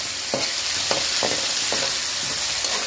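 Meat for a homemade pizza topping stirred in a hot frying pan, with a constant crackling sizzle broken by about five quick scraping spoon strokes, close and loud, no talking.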